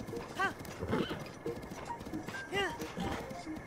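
In Breath of the Wild, a horse's hooves clop in a steady rhythm while a short whinny rises once or twice over the game sound, with a person talking over it.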